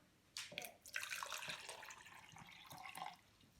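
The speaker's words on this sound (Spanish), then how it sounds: "Vamos a poner el agua." Water pouring into an empty measuring container, a close splashing and trickling stream that runs for a few seconds at a low level.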